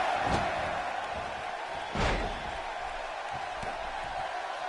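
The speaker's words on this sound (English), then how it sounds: "Bounces his head now off that top turnbuckle" A heavy thud of a wrestler's head slammed against a turnbuckle rings out over a constant roaring crowd, with a few softer impacts before and after in a noisy arena.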